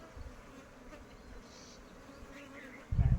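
Honeybees buzzing around a wooden hive box at an outdoor apiary, a steady droning hum with individual bees passing near, plus a brief louder thump at the end.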